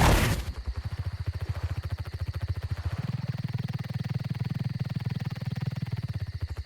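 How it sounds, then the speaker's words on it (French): Rapid, steady wing beats of a Rhyniognatha, a giant flying insect creature in the game Ark Survival, thrumming like helicopter rotors in a continuous loud pulse that deepens partway through. "Rien qu'avec ce son et ces battements d'ailes"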